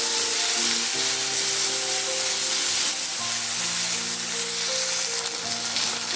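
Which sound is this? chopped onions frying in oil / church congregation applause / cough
chopped onions frying in oil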